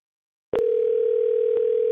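A steady telephone dial tone after a call hangs up starts abruptly after half a second of silence and holds continuously, loud and close, with a faint click partway through.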